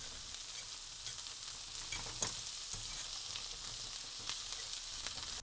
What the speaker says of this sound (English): We're gonna saute those for a couple minutes till they start browning